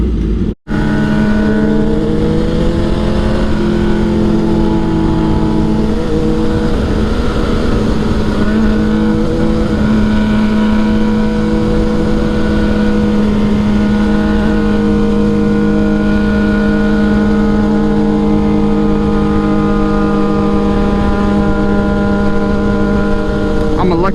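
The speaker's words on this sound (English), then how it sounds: "I hear you, mama, downshifting that bike." A motorcycle engine droning loudly on the road, a sustained harmonic hum that shifts pitch as it changes gears, with steady wind and road roar throughout.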